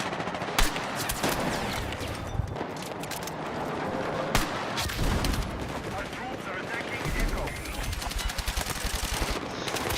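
M417 rifle fire in the video game Battlefield 6, with dense bursts and single cracking shots amid battlefield noise, loud and close throughout ten seconds.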